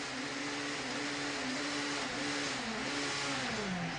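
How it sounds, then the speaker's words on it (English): A 1994 BTCC touring car engine screaming at sustained high revs after a missed gear change left it in neutral, a loud continuous onboard roar with a wavering pitch and no talking. "The rev counter goes off the clock as he gets a box full of neutrals."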